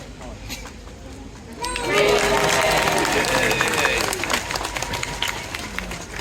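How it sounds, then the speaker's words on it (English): An audience at a seal presentation at Taronga Zoo in Sydney breaks into a sudden burst of clapping and cheering that swells and then tapers, with children's voices mixed into the crowd noise. "let's give her a big round of applause"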